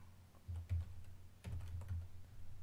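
Someone types a name on a computer keyboard, giving soft quick clusters of key clicks in two short bursts, quiet and close with no talking.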